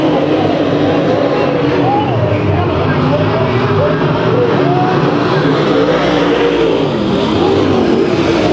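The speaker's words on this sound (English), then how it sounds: "See Holder getting that left front so high up in the air, it's barely turning down the back straightaway." Race cars roar continuously around the oval at Bakersfield Speedway, a dense, loud wash of engines with shifting pitches as cars jostle through the turns, a commentator talking over the din throughout.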